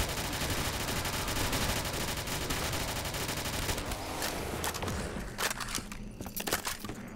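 Dense, sustained light machine gun fire in a Tranzit gun game round, a continuous loud rattle of rapid shots with footsteps mixed in, thinning into scattered bursts toward the end.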